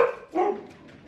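A couple of quick dog barks, a sharp yap followed by a second bark, then a faint trailing whine, fairly close.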